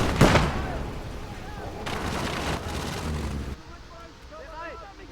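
Machine gun fire in a World War II video game, set in the Fall of France battle: dense, rattling bursts for about three seconds, then fainter scattered battle noise.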